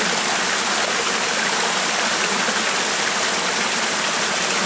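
Rushing stream water flows steadily and loudly beside a lake hiking trail, a continuous broad hiss with no talk over it.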